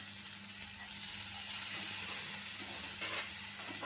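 Onions and green chillies, fried golden brown, sizzle with ginger garlic paste in a pan for a juicy chicken fry, giving a steady, close hiss of frying, with a brief stirring scrape near the end and no talking.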